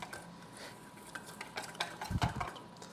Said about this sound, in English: Let's just whisk that together.